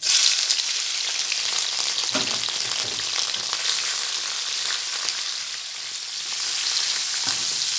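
Shrimp stir-frying in a hot pan for fried noodles, a steady loud sizzle with scraping stir strokes running throughout, no voices.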